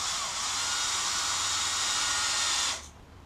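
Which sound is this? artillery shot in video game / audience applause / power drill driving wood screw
power drill driving wood screw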